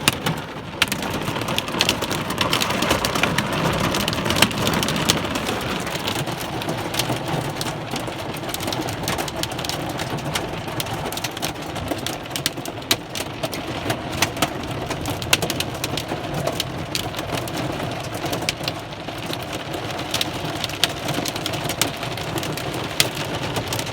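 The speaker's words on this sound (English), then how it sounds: "This, I think, is the worst Denver hailstorm I've ever seen" Heavy hailstorm with rain in Denver: a dense, continuous roar of falling ice and rain drumming on surfaces, steady and loud for the whole stretch, with scattered sharper impacts and no voices.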